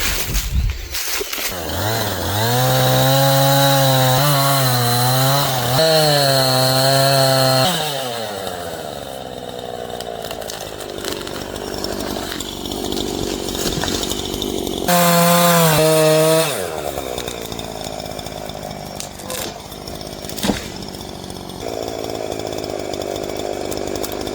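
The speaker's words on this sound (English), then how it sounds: "we'll refire the chainsaw up and drop these before the wind starts to really pick up" A chainsaw revs up and roars loudly while felling trees outdoors near a drain field and septic install site, its pitch bending as it bites into wood, then idling before a second hard rev burst.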